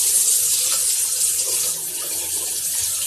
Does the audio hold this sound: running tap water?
yes